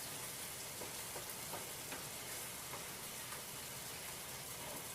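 Egg rolls fry in hot oil with a steady, dense sizzle and hiss, continuous and even throughout, close but low in level, with no talk.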